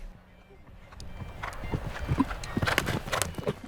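Horses at a show jumping competition, hooves thudding and clopping in irregular bursts that grow louder, with scattered arena noise in the background.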